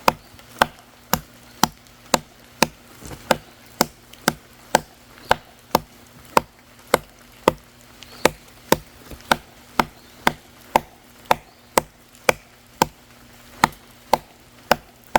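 A short machete with a 420J2 steel blade strikes wood in steady, evenly spaced chops, about one per second, sharp and close, over a faint background hum.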